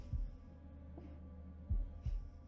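Low, thudding heartbeat pulses in The Devil in Me video game: a double beat, a short pause, then another double beat over a faint steady hum, close and isolated.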